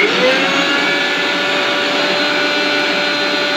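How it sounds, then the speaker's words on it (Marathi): A kitchen mixer grinder whirring loudly and steadily as it grinds garlic cloves, ginger and green chillies into a paste for bread vada, a continuous high motor whine with no talk. "तर हे सर्व मिक्सरवर"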